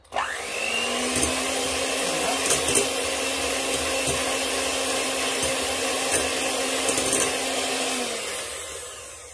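A hand mixer whips cream with vanilla sugar for homemade ice cream, a steady loud motor whine that runs for several seconds, then spins down and stops.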